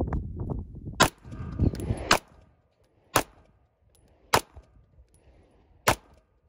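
A Smith & Wesson M&P 1.0 pistol with Performance Center ports fires several sharp, loud shots roughly a second apart, each a crisp crack with a short ringing tail, after some brief handling noise at the start.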